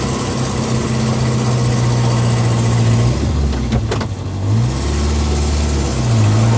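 A car engine revving hard while climbing an uphill road in first gear, a loud, sustained drone that rises and falls with a brief dip midway as the load shifts.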